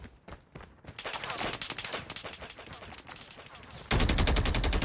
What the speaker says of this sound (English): Our robot is under fire.